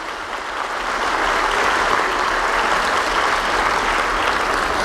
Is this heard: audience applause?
yes